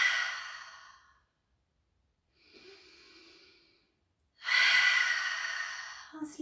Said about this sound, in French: Alors on expire par la bouche.